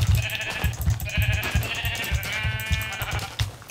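Sheep in the Tekkit video game bleat several times in succession, the calls overlapping and wavering, with soft thudding game sounds underneath.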